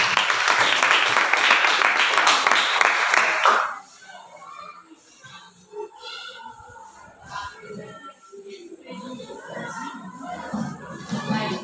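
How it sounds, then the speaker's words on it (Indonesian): Students in a classroom lesson burst into dense applause that fills the first few seconds, then stops abruptly, leaving quiet room noise with scattered voices and shuffling. "Tepuk tangan."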